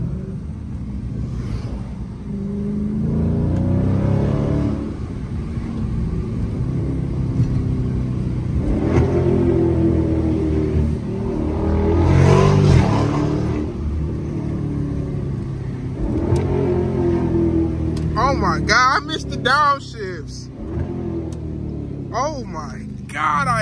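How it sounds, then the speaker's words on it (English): A Dodge Charger SRT 392 engine revs loudly in sport mode while accelerating, rising and falling in a strong rumbling pull with downshift bursts, heard close from inside the car with people talking and exclaiming over it. "I forgot how loud this car is."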